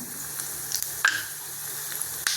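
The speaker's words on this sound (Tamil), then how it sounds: "வெந்தயம் போட்டாச்சு, கடுகு போட்டாச்சு, உளுத்தம்பருப்பு, ஜீரகம்" Fenugreek, mustard seeds, urad dal and cumin fry in hot oil, making a light, steady crackle with a few sharp pops and stir clicks, heard close with no talking.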